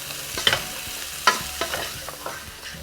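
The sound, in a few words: stirring potato chickpea chaat mixture off the heat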